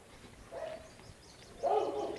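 A tense, leashed dog gives two short muffled barks or woofs about a second apart, fairly faint and alone in a quiet space.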